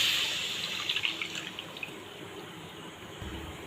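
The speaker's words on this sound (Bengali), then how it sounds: "এই একই কড়াতে দিয়ে দেবো দুধ" Milk poured into a pan for rasmalai makes a steady, soft liquid splashing and trickling stream, close and fairly quiet, with a faint ongoing hiss beneath it.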